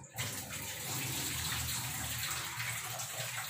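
Water runs and splashes steadily as dal lentils are rinsed for cooking, a continuous close gush at low volume with no talking.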